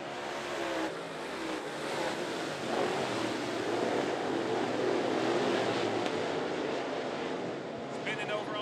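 Late model race cars roar around an oval at 411 Motor Speedway, a continuous loud engine drone heard from the stands with wind buffeting the microphone.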